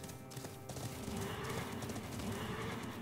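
A horse neighs in the Hearthstone card game, a loud whinny over a busy bed of game effects and clip-clop sounds that runs the full length without any talk.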